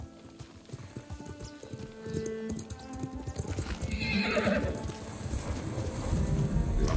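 Horse hooves clip-clop in the Ghost of Tsushima video game, with a horse whinnying partway through. The steady hoofbeats run throughout under game music and ambience.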